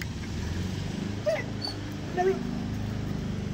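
A dog whimpers softly in two brief, high whines over a steady low background hum, with no talking.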